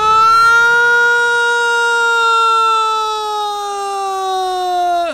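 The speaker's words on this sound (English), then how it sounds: "Air raid siren" A loud, sustained air raid siren in the video game Among the Sleep wails steadily, its rising tone slowly sagging in pitch before cutting off abruptly at the end.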